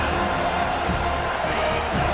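A stadium crowd in the EA College Football 25 video game, Louisville at home against Florida State, roaring in a steady, loud wash of cheering with no clear breaks.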